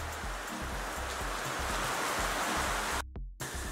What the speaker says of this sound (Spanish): La lluvia no me deja seguir con el video.